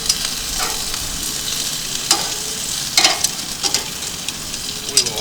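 Club sandwich bread fries in a hot pan with a steady sizzle, while a spatula flips the slices with a few sharp scraping knocks over the crackle.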